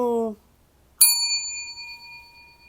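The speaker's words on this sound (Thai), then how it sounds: "กดกระดิ่ง" A single bright bell ding rings out sharply and fades slowly over about a second and a half, after a short burst of a voice at the start.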